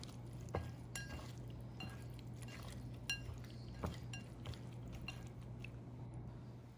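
Ingredients for pineapple shrimp fried rice being stirred together in a bowl, with soft scraping and a few sharp utensil clinks against the dish over a steady low hum, no talking.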